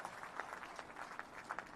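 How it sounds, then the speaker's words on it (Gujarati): Faint, distant applause from a crowd at a political gathering, a steady patter of many hands clapping with no voices over it. "તાળી એની માટે વગાડવાની।"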